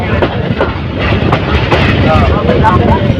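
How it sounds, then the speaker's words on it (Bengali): The Parabat Express train rolls into platform one at Brahmanbaria railway station with a heavy rumble and rhythmic wheel clatter, loud and close, as voices carry over the noise. "ট্রেনটি ব্রাহ্মণবাড়িয়া রেল স্টেশনে এক নাম্বার প্ল্যাটফর্মে প্রবেশ করছে"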